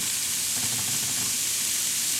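Chopped onions sauté in a pan for a pork chile verde, giving a steady, close sizzle and hiss that runs without a break and with no voices.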